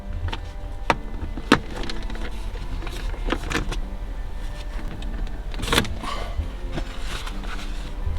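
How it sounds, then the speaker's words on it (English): Plastic clicks and a couple of sharp snaps ring out as the shift boot is pried up around a Porsche classic shift knob, scattered close handling noises over a steady low background hum. "We're just going to pry that up."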